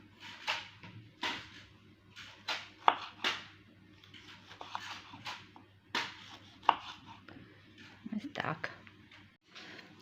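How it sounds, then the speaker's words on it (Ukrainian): Knife slicing tomatoes into rings on a cutting board, a series of crisp, close chops at an uneven pace with brief pauses, quiet overall. "Помідори я наріжу кільцями."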